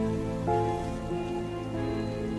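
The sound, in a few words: rain falling, animated story sound effect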